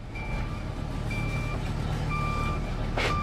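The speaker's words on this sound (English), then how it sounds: "here I have a truck reversing" Synthetic sound effect of a truck reversing: a regular electronic backup beep repeating at even intervals over a steady low engine rumble.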